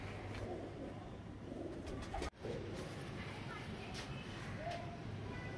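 Soft, low cooing from a dark-coloured Teddy pigeon repeats against a steady background hum, with a brief dropout midway; the calls stay muffled and close.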